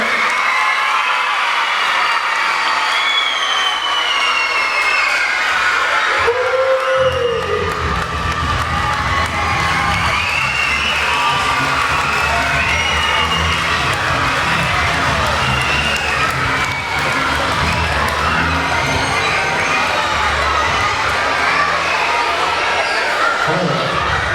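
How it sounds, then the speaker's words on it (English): Children cheering and shouting at an elementary school magic show, a loud, continuous crowd roar of young voices that builds and holds throughout, with an adult talking over the din. "Cheer them on, boys and girls."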